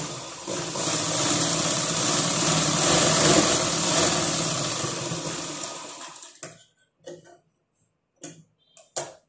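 A sewing machine stitching a blouse whirs in a steady, close mechanical run for about six seconds, then stops, leaving a few short clicks and bursts of handling.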